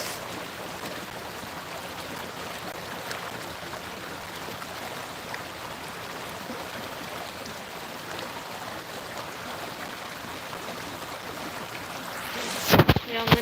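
Continuous rushing water, even and close, holding steady for the whole stretch before a few sharp knocks and bumps near the end.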